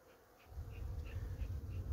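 A honey bee colony in a hive opened out of season in warm weather, with smoke in use, gives a low, swelling buzz that grows louder after a quiet start, with faint higher tones of individual bees passing close.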